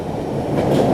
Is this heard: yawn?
no